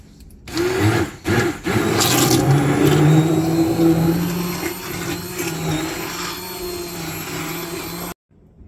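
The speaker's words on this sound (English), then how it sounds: "Now we're going to take our stick blender and we're going to blend these up." A stick blender whirs steadily for several seconds, its motor pitch wavering as it purees cooked apples into applesauce, with a couple of brief stops near the start before cutting off.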